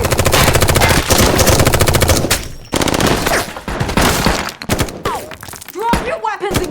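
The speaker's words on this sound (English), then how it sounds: "a fierce gunfight breaks out between Russo's team and Homeland Security" Rapid automatic gunfire and bursts of shots fill a gunfight inside an abandoned warehouse, loud and dense at first, then breaking into scattered shots and impacts as shouting voices cut in.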